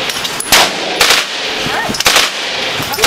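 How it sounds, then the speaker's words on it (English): Automatic gunfire at a Las Vegas gun store indoor range: sharp, loud bursts about half a second apart come very close, and each one rings out in a short reverberant tail. "Five round burst."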